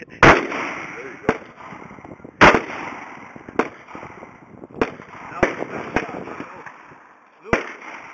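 Several outdoor shots from a .30-06 rifle or 12 gauge shotgun, sharp loud cracks spaced irregularly about a second apart with echoing tails, while people talk and call out between them.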